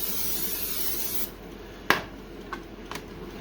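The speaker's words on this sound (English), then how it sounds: "I'm going to use just a little bit of cooking spray." Cooking spray hisses from a can for about a second, then cuts off, followed by a sharp click and a couple of light taps, close and fairly quiet.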